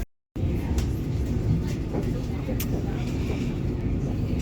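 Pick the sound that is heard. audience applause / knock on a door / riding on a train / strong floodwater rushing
riding on a train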